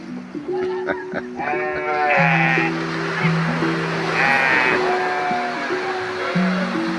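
A flock of sheep bleats continuously while being bathed, many voices overlapping near and farther off, with a steady wash of background noise underneath, near a boat yard in West Africa.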